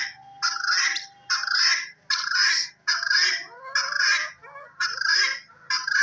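Chickens at a pet keeper's coop, a run of about seven loud, evenly spaced squawking calls, each a short harsh burst with brief gaps between, close to the listener.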